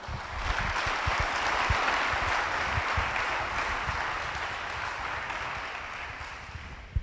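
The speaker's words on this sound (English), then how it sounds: "Get a round of applause for Elizabeth Farron." An audience at a hall of fame inductee and state champion ceremony gives sustained applause for an inductee, a dense wash of clapping with a few louder nearby claps and a sharp final clap.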